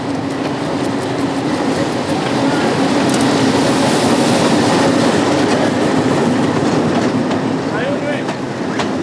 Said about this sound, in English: As soon as the train comes to a halt, activity erupts all around it.